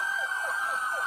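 Police car sirens wail continuously in bodycam footage, a loud, rapidly cycling yelp tone over a steady high whine, close and unbroken.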